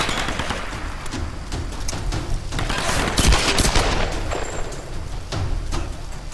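Gunfire in Tomb Raider Definitive Edition, dense rapid shots and booms over a rumbling battle backdrop, loud and continuous for about six seconds with no speech.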